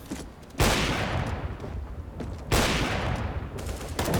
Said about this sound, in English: Oh, Fanat misses that AWP shot, but he does come back and get one.